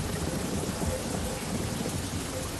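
Steady heavy rain pours down with rumbling thunder throughout, a dense, continuous wash of noise with no talking.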